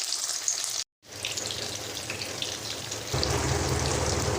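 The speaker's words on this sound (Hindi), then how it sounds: "तब तक मैं ये फ्राई कर लेती हूँ" Eggplant slices fry in a pan with a steady close sizzle that briefly cuts out, then returns and grows louder and fuller.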